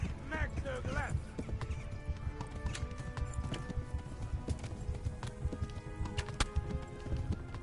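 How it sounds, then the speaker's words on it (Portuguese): Hooves of a galloping horse in Kingdom Come: Deliverance pound in a steady, close, fast rhythm, with a brief whinny near the start and a few sharp knocks over the running. "Ai, corre, cavalo."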